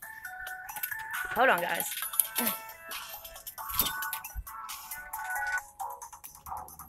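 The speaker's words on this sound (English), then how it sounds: "your phone's ringing." A mobile phone ringtone plays as a melodic electronic tune of rising and falling tones, repeating in short bursts at moderate volume while a person talks nearby.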